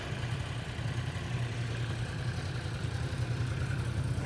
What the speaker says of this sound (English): Okay, so this is the sound of the stock bike.